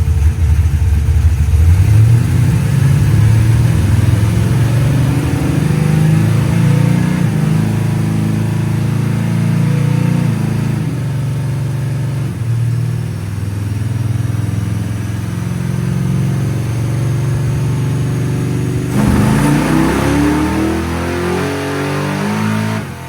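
Drag car on a dyno with a 950 carburetor and locked torque converter, engine roaring steadily at high revs for about twenty seconds, then a brief dip and a final rising rev, loud and close.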